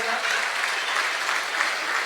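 An audience of students claps loudly and continuously for a teacher, Kiran Sanap, in a dense, even burst of applause lasting a couple of seconds.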